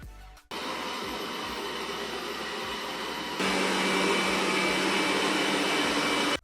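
A Roborock QRevo MaxV robot vacuum runs with a steady whirring motor drone that starts abruptly, then steps up to a louder, higher suction level partway through, close by and continuous, with no talking.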